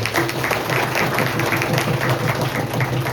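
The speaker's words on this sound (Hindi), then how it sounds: "आइए हम तालियों से फादर की स्वागत करेंगे" A congregation at Holy Mass in Prabhu Yesu Dham, Bilaspur, Haryana claps to welcome the priest, a dense, even wash of applause filling the hall without pause.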